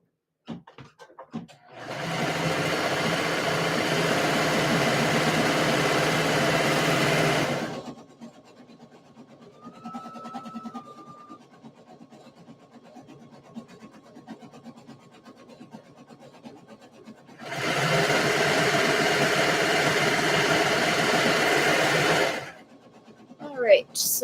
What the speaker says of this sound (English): done serging for now